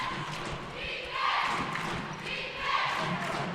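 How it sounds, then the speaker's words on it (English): Crowd noise fills an indoor arena at a Region XIX semifinal women's college basketball game between Brookdale and Passaic, a steady roar that swells twice, with sneaker and ball sounds beneath. "And you can hear the noise in this building from the Brookdale crowd as Janiyah Coleman gives it over to Jasmine"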